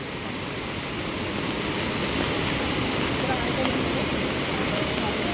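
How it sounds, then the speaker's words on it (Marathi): A loud, steady roar of flood water from a river in Konkan rushing over a bridge after torrential rain fills the scene without letup, a broad continuous torrent heard up close. "ह्या पुलावरून पाणी जात होतं खूप म्हणजे खूप"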